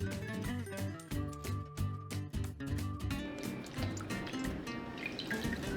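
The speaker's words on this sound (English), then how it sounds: "First, I thoroughly wash the potato skins." Potato skins being washed under running tap water, a steady splashing and dripping stream close by with no talking.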